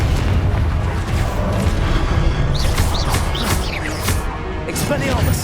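A Confringo spell explosion in Hogwarts Legacy booms under dense, continuous rumble and crashing effects, with sharp bursts flaring midway through the clip.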